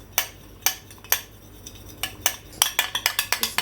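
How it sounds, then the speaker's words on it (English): Utensils stir and toss salad in a bowl, giving a string of sharp clinks and scrapes, sparse at first and then a quick, steady run of taps near the end, close and with no voices. "So then try to mix everything together"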